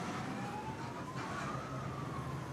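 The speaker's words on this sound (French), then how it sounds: "leur gros camion rouge qui fonce, sirène hurlante" A fire truck's wailing siren rises steadily through busy street noise in Bangkok, Thailand, fairly distant and continuous, with no voices.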